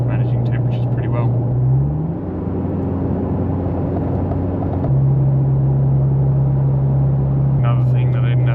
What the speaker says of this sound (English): Pulling up a hill, torque converter's locked up.